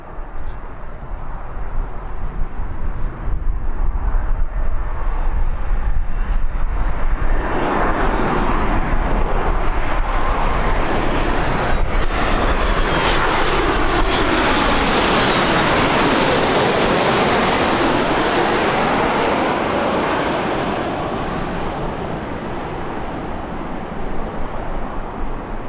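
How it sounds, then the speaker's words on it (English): Emirates Airbus A380 airliner on final approach to Birmingham Airport, a loud, continuous roar that swells and sweeps past nearby, its pitch falling as it passes over, then gradually easing off. "as soon as I clap eyes on the Emirates, which I can see just turning into finals"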